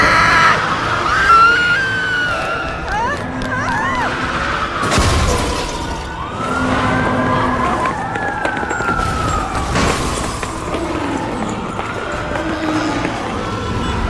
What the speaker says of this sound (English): Follow the screams.